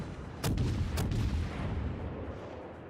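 Warship main guns fire in World of Warships, two sharp booming salvos about half a second apart, followed by a rolling low rumble that fades out.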